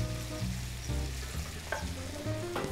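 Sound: chili pepper sizzling in frying pan

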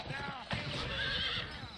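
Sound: horse neighing in video game

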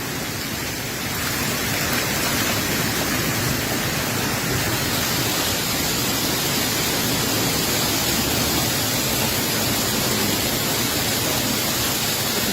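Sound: hailstones hitting a fiber roof

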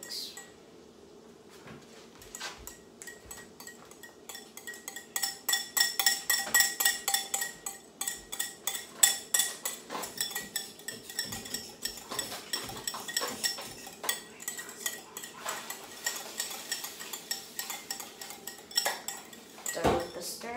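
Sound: stirring a chocolate mixture in a bowl

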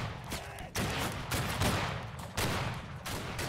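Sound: musket volley gunfire in video game Battle Cry of Freedom

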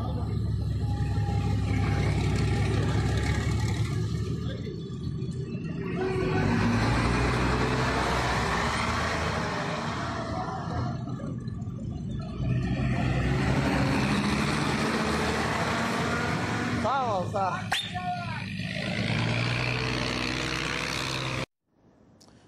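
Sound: buses driving on Saveh road during drivers' strike

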